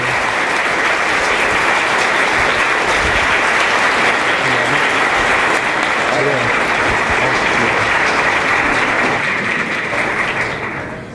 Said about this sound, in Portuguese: Eu peço uma salva de palmas com vocês, o astrobiólogo Dr. Ivan Paulino Lima.